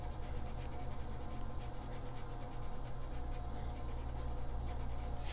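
A Blick Studio blender pencil rubs colored pencil into paper, a close, continuous scratchy scrubbing with quick back-and-forth strokes.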